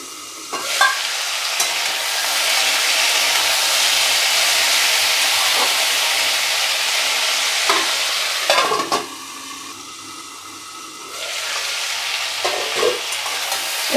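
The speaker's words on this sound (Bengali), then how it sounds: "এবার সব শুদ্ধ নাড়াচাড়া করে আবার ঢাকা দিয়ে দেবো সেদ্ধ হওয়ার জন্য।" Potatoes and vegetable stalks fry in a pan with a loud, continuous sizzle, broken by scraping stirs and clattering utensil knocks near the middle, after which the hiss quiets briefly before rising again.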